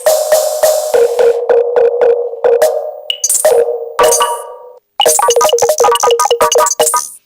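A phone sound effect run through a ring filter and spring reverb: repeated metallic dings and pings in quick rhythmic bursts, loud and close, with a ringing, echoing tail and a brief gap before a denser final run.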